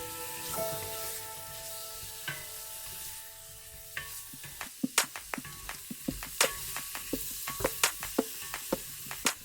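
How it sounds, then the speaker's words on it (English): Cherry tomatoes stirred with fragrant spices in a single pot for vegan kitchari, giving a steady sizzle with sharp spoon scrapes and clicks that grow more frequent in the second half, close and alone. "Add your cherry tomatoes and stir them together with the spices."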